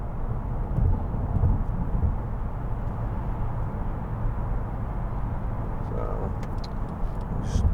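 A 2014 Mercedes-Benz C250 cruises at 70 mph with the engine near 1600 rpm, giving a steady low road and engine drone inside the cabin with broadband tyre noise and no clear variation.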